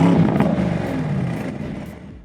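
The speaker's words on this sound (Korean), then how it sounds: "배기 사운드도 63 쪽이 더 나은 느낌이었고요" A Mercedes-AMG GT 63 S E plug-in hybrid's V8 exhaust rumbles up close and loud, with a rough, crackling burble that slowly eases off across a couple of seconds.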